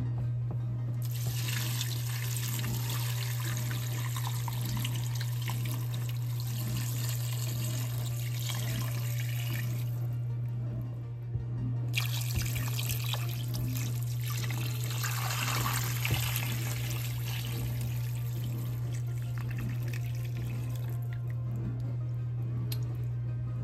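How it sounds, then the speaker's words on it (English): Water pours steadily from a tap into a crock pot for a long stretch, briefly interrupted once, with a constant low electrical hum underneath. "And then I'll fill the crock pot up to the rim with water"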